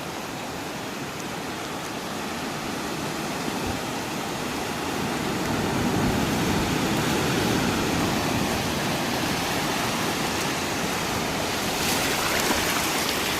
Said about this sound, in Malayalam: തിരമാല തൊട്ടടുത്ത് തിരമാല വരുന്നുണ്ട്